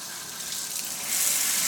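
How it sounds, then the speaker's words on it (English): A newly installed Wanmai kitchen faucet runs water in a steady, hissing stream into the sink. The flow gets slightly louder toward the end, and nobody talks. "Okay, got a lot of water pressure, so putting this on low."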